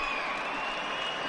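A large crowd applauds and cheers a judo win at the Tbilisi Grand Prix 2017. The sound is a dense, steady wash of clapping that fills the short moment.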